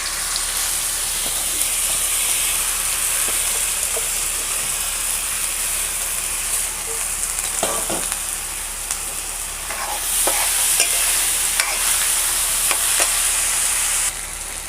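Raw rice toasting in a pan over a lowered gas flame for hilsa pulao, giving a steady, close, broad sizzle with scattered scraping and clicking stir strokes throughout, no voices.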